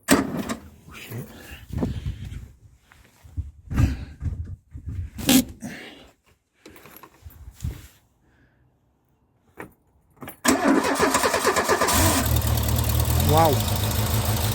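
A Renault 5 Campus with a carburetted engine, fixed after running lumpy, cranks and catches after a stretch of handling noises and talk. It settles into a loud, steady idle that carries to the end.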